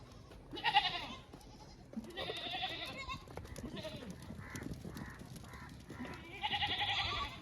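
Osmanabadi goats bleat repeatedly nearby on a farm, several loud, wavering calls spaced apart, with quieter farm rustling and background noise between them.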